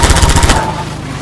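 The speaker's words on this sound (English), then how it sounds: "because I've popped on the laser gun" Rapid burst of laser gun fire in a game map built in Hammer, a quick rattling string of about six loud shots that cuts off abruptly and leaves a faint tone.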